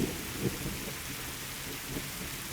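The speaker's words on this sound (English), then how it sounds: "watching the rain fall." Rain falling, a soft, continuous wash of patter with a few faint low rumbles mixed in.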